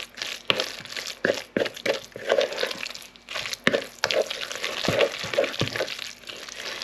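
An egg is stirred briskly into a spinach and ricotta tart mixture, giving a run of close, uneven wet scraping and squelching strokes with short pauses between them, with no voices.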